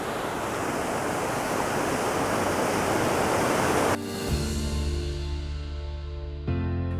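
The Tower Woods waterfall rushes as a loud, steady broadband roar of cascading water that cuts off abruptly partway through, leaving a quieter low rumble.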